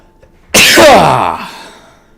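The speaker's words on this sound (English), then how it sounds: "Sneeze." One sharp, loud human sneeze bursts out of near silence, close to the mic, with a strong onset and a voiced tail that fades over about a second.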